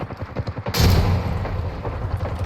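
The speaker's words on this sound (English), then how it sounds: "Frag out. Threw a nade in there." A grenade detonating in a video-game firefight, one heavy booming blast arriving after a run of rapid gunfire thumps, then a rumbling tail with more shots behind it.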